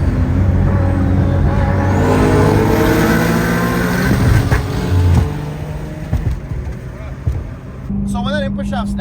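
An Infiniti G35 engine revs hard through a no-lift shift as the input shaft snaps. Loud climbing revs break off abruptly partway through, followed by rougher rumbling, with a voice talking over it.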